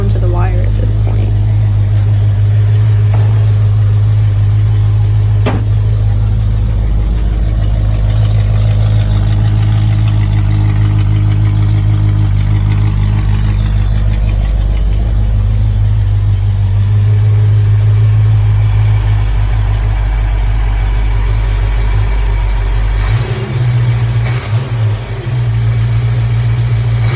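A restored 1965 Ford Mustang engine idles with a steady, loud low rumble that runs almost unbroken throughout, briefly dipping near the end, with voices talking over it.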